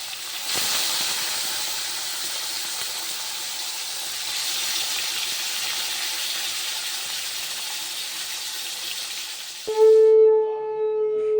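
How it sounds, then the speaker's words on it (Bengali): A steady, loud sizzling hiss of fish frying in hot oil, ending in a sudden clatter and a ringing metallic tone. "এখন মাছটা ভাজা হচ্ছে"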